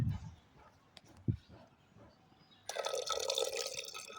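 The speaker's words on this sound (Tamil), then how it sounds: "இந்த கொஞ்சோட தண்ணியை ஆட் பண்ணிக்க போறேன்." A few soft knocks and clinks, then a steady rush of water poured into a pot of pongal, bright and splashy, continuing to the end.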